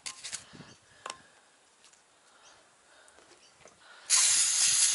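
Cleaner sprayed onto an RB25DET cylinder head during cleaning: quiet, scattered hissing at first, then a loud, steady spray hiss close by for the final second, with no talking.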